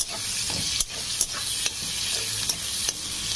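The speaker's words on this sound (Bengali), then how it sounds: "পেঁয়াজটা আমি ভেজে নেব" Chopped onion frying in a pan with dried red chilies, a steady sizzle broken by a few sharp scrapes and stirs of a spatula, close and fairly loud with no voices.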